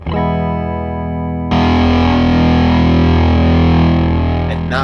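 An electric guitar is played through a fuzz pedal: a loud, thick, buzzing sustained chord that jumps to a brighter, harsher distortion partway through and rings on steadily without any voice.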